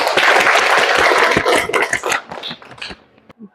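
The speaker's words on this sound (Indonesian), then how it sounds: "Ya, tepuk tangan dulu." Classroom applause from students during a teacher-training lesson, a dense burst of clapping that is loud at first and then thins into scattered claps and fades out.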